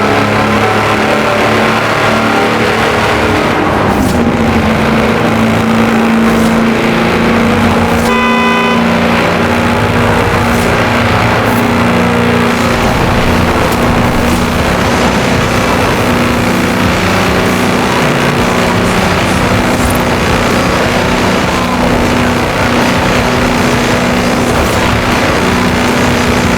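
A Track-Tor tractor on 54-inch mud tyres in Forza Horizon 4 drives at speed. Its engine gives a loud, steady droning roar with a sustained tonal hum running through the whole stretch.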